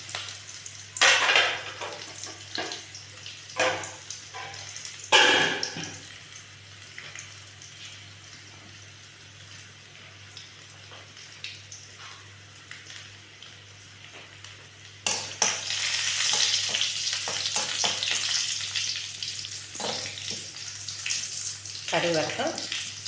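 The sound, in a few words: mustard seeds frying with shallots, green chilli, curry leaves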